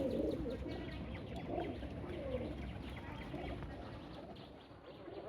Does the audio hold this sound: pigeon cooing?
yes